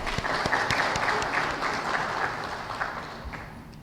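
An audience claps together at a school silver jubilee event, a steady, moderately loud wash of applause that slowly fades toward the end.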